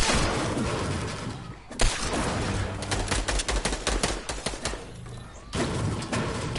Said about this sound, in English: Caden, don't shoot at me.